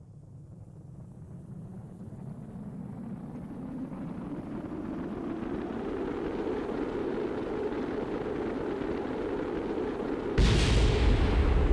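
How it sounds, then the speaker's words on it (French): A steady, swelling roar of rushing air that grows louder, ending in a sudden harsh burst of broadband noise near the end as a rocket launcher burns up in the atmosphere; no voices. "l'explosion que vous avez entendue, c'est le lanceur qui a brûlé dans l'atmosphère"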